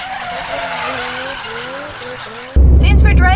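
Car driving on a road in Japan, a steady engine and road hum with a rising tone that ends in a sudden loud thump and rumble, heard close from inside the car.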